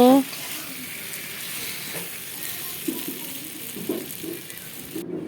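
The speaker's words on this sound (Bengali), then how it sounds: "ক্যাপসিকাম আর টমেটোগুলো একসাথেই ভেজে নেব।" Capsicum and tomatoes fry together in a pan over cooked-down spices, giving a steady, close hiss of sizzling with a few soft stirring knocks and no talking.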